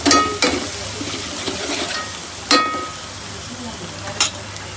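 Onion goes into hot oil with garlic for a kaju gathiya curry, producing a soft, close sizzle under a low hum, punctuated by a few sharp metallic clinks of a spoon against the pan.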